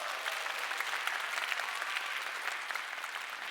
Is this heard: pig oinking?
no